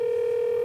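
A steady telephone tone hums alone, close and loud, holding unchanged for under a second without talk.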